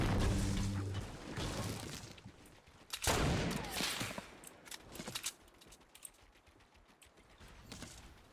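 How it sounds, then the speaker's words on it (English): Gunfire in a multiplayer shooter video game, sharp bursts of shots near the start and middle followed by scattered clicks and quieter pops, mixed with mechanical tapping. "you guys shot at the exact same time"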